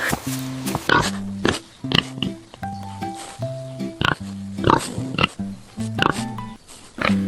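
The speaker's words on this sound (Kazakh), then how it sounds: "Шошқа қандай дыбыс шығарады?" A pig grunts and oinks repeatedly in quick, uneven bursts, loud and close, with short gaps between the nasal calls.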